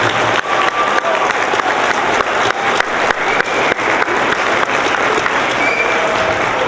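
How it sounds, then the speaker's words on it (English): Loud, sustained applause from an audience at a high school academic awards night honoring North Star seniors, dense clapping with little crowd noise and no talk. "Let's have one more round of applause for all of our North Star seniors."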